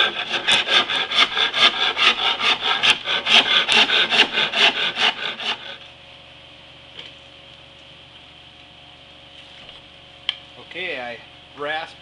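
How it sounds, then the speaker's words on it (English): A rasp files wood off an Osage orange bow limb in quick, rhythmic rough strokes, loud and close for about five seconds, then stops, leaving quiet room tone with a few faint knocks and a short voice near the end. "I rasped the front off, down to my line"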